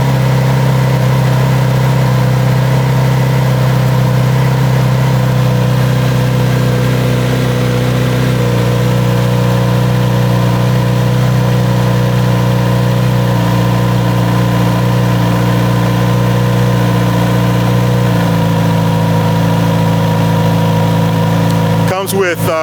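A Kawasaki Z900 RS motorcycle idles steadily for the whole stretch, a continuous low engine hum that settles slightly lower partway through, with a voice talking over it.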